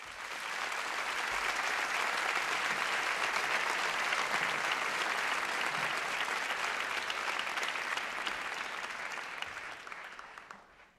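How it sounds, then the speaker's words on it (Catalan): An audience applauds a folk dance group at a folklore show, a sustained wash of many hands clapping, fairly distant and even, fading out at the end. "Un fortíssim aplaudiment per a ells"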